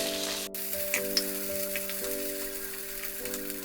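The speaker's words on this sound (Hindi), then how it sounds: "3 से 4 मिनट में दोनों तरफ से हमारे कटहल बहुत अच्छे से फ्राई हो जाएंगे" Jackfruit pieces fry in hot oil, a steady close sizzle running the whole time with a few soft pops and a faint tonal hum beneath, no voices.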